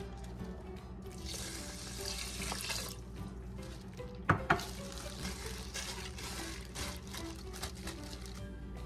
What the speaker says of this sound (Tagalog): Tapos buhos na natin yung ating tubig.